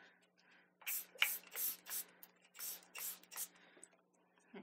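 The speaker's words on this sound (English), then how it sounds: "I'm going to spritz it with some purple" Mica Mist spray is spritzed onto dark cardstock in a quick series of about eight short, soft hissing bursts, close and fairly quiet, against a faint steady background hum.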